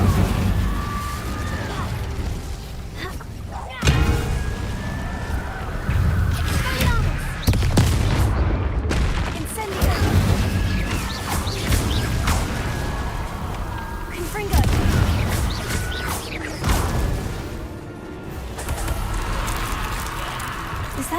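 An Incendio fire spell is cast during combat in Hogwarts Legacy, with repeated heavy booming blasts and crackling impacts spread across the scene and a voice talking between them.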